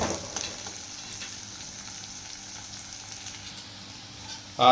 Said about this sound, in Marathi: जवळपास हे आपल्याला तीन चार मिनटं हे कांदा भाजून घ्यायचा आहे पूर्ण